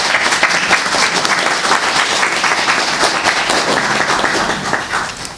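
Audience applause at a book launch for a priest in Dărmănești, Romania: steady, dense clapping from a crowd, loud and close, sustained throughout and fading slightly at the end.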